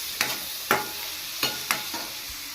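Veg fried rice with pepper powder being stirred in a pan, five quick spatula scrapes and knocks over a continuous gentle sizzle, close up.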